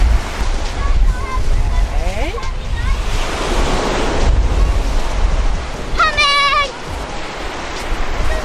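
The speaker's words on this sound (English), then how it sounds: "I love the sea so much." Sea waves break and wash along the Cornwall coast, a loud surging roar mixed with gusty wind buffeting the microphone, while whistle-like tonal sounds pass briefly.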